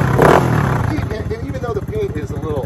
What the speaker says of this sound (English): Listen to that custom exhaust, people. That sounds mean.